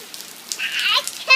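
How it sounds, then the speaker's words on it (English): August rain falls in 104-degree heat as a light, fairly faint patter of drops that swells toward the end of a short stretch, with no talking. "It's raining, Jade."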